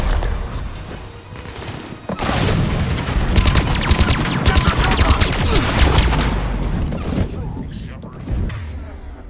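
Dense rapid gunfire and explosions from the video game Mass Effect 3, a continuous loud barrage of overlapping shots and booms that stays heavy for most of the stretch, with voices mixed into the battle noise.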